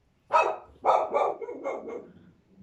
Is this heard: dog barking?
yes